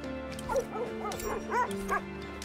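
Sled dogs in The Red Lantern game yip, whimper and bark in a cluster of short high-pitched calls over a steady low background hum, close by.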